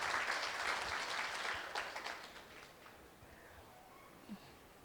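An audience at a reception program claps, loud and dense at first, then gradually fading to scattered claps and quiet by the end.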